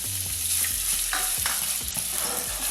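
Bacon sizzling and frying in oil in a pan, a dense continuous crackle with scattered pops and a low hum underneath throughout.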